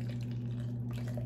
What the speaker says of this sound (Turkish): Su ekliyorum.